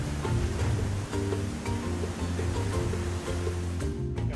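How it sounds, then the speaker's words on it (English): The Nile River in Uganda rushes steadily below rapids, a dense, continuous roar of moving water with a low rumbling undertone and no voices. "simply listen to the sound of the river flowing past"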